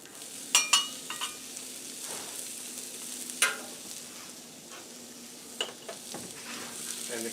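Onion frying in a little oil on a grill gives a quiet, steady sizzle, broken by a few sharp clinks and scrapes of a utensil against the cooking surface.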